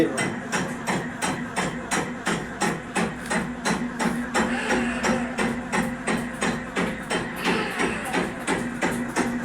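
Batasa sugar candy making machine from a Bandel machinery maker running at a training centre in Budge Budge, giving a steady, rapid rhythmic clatter of repeated mechanical strokes with a low hum underneath, loud and close throughout.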